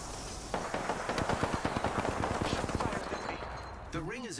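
Rapid automatic gunfire in a battle royale video game, a fast string of sharp shots close up for a few seconds, then stopping as a voice speaks at the end.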